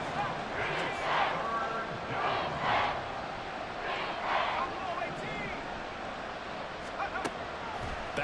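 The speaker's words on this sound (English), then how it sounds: "this crowd making it hard to hear" A stadium crowd roars and swells in Madden NFL 24, a dense sustained din with rising surges of cheering beneath a play-by-play commentator talking throughout.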